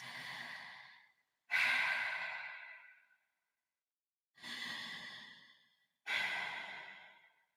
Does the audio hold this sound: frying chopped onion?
no